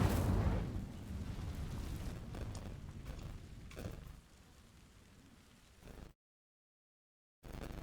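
Incendio fire spell in Hogwarts Legacy: a loud, roaring burst of flame at the start fades into a crackling, rushing rumble, then the sound cuts out briefly before resuming.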